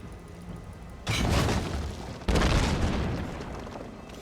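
Siege weapon firing in The Elder Scrolls Online PvP, two heavy booming launches about a second apart, each a loud sudden blast with a long rumbling tail.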